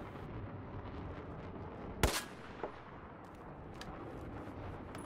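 An XM25 airburst grenade launcher fires once in Battlefield 4 with a single sharp, loud report. A fainter pop follows a moment later, all over steady, noisy battlefield ambience.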